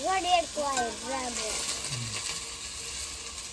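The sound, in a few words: spices sizzling in hot oil while tempering for patra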